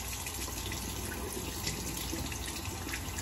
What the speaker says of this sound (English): get that razor rinsed